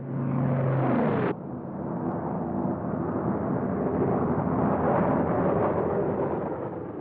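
A loud, continuous rumble of bombs bursting on a target, a dense roaring wash that swells without pause after a sharp drop-off in an opening higher drone, with no voices.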